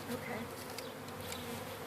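Honeybees buzz in a steady, low drone as they are loaded into an MCG hive, a faint continuous hum of many insects close by.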